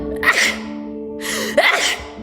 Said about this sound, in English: fun fact about me is that whenever I sneeze, I have to sneeze twice